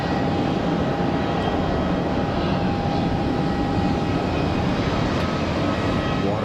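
A jet airliner climbs away after takeoff from the runway at Geneva Airport, a steady loud broadband engine roar holding evenly throughout with a faint whine over the rumble and no talking.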